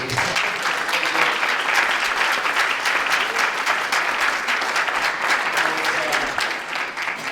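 An audience at a York South—Weston all-candidates debate claps loudly and continuously, a dense steady wash of applause that carries on for several seconds before easing slightly at the end.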